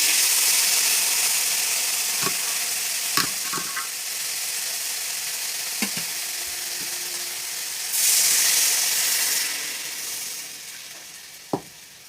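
Water poured into fried spice paste in a pan for a pabda fish curry, a loud hissing sizzle that surges midway, with occasional clinks and scrapes of a utensil against the pan and no talking.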